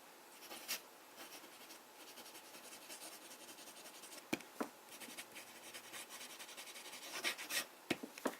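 Conway Stewart Edgcumbe fountain pen with a medium nib writing on paper, a soft continuous scratching with occasional sharper ticks from pen lifts and strokes, close and quiet, with no talking.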